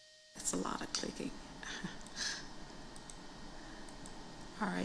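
Clicking sounds rattle through a council chamber during a vote, a busy irregular patter of keys or buttons heard close under a steady room background, with voices talking over parts of it.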